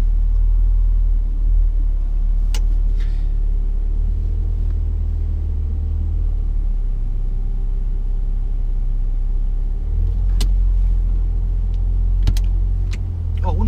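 A car driving on during a driving lesson, heard from inside as a steady low engine and road rumble with a few faint clicks and knocks, continuous and fairly loud with no talk.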